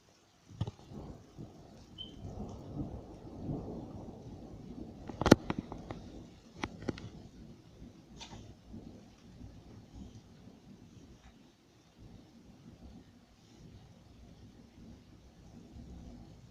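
A nighttime thunderstorm with rain brings low rolling thunder rumbling through, a sharp crack near the five-second mark and scattered fainter cracks after, then a quieter wash of rain and distant rumble.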